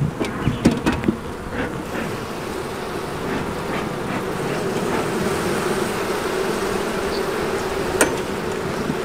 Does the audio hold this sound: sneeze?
no